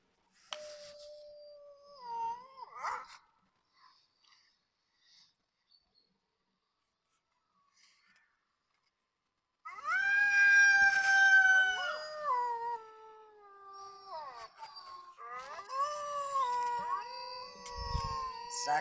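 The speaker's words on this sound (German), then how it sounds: "Araka und Rilana stimmten ihr Jagdlied an. Das Rudel fiel mit ein" Wolf pack howling as a staged audio drama effect: a single long howl rising and falling early on, then several overlapping howls joining in a loud, sustained chorus toward the end.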